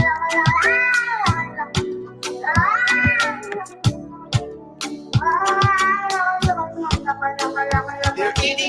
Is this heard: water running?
no